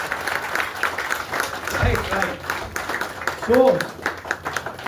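An audience at a company annual meeting in Srinagar, Kashmir, claps steadily while someone speaks over the applause.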